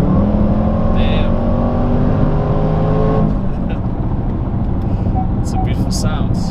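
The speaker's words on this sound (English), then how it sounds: "It's got a nice V8 engine in it." V8-engined car in dynamic mode revving and accelerating, a loud rising roar with climbing harmonics that eases after a few seconds into a steadier driving rumble, with faint clicks toward the end.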